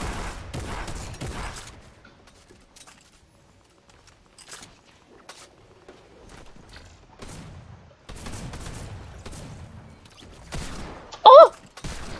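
Shooter video game combat gives sparse bursts of gunfire, a rattling volley at the start and more near the end, with quiet gaps in between and a sharp blip just before it ends.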